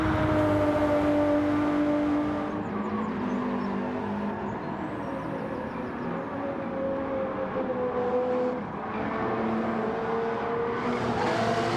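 A Toyota Supra and Porsches race in a DTM-style event in Gran Turismo 7, their engines whining steadily and continuously with shifting pitch as the pack stays close together.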